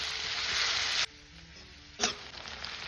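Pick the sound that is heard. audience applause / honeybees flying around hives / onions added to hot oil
onions added to hot oil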